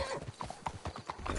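Clip-clopping horse hooves in Red Dead Redemption 2, a steady run of close hoof falls with a brief whinny mixed in, loud and continuous.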